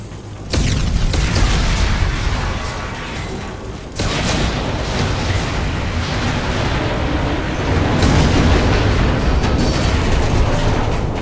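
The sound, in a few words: concussive shot explosion in the video game Mass Effect 2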